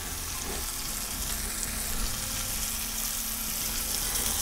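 Ocean perch fillets sizzle in a pan, a steady, dense frying hiss that holds evenly close by from start to finish with no voices.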